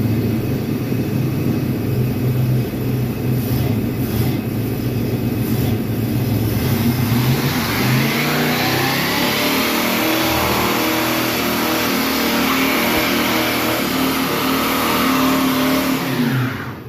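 A 1968 Buick Skylark convertible's V8 roars loud and close, revving hard and holding high during a burnout, with a steady, continuous engine drone and no talk.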